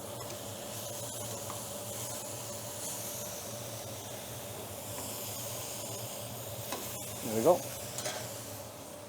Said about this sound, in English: Pan on, I'm going to put a few knobs of butter into that.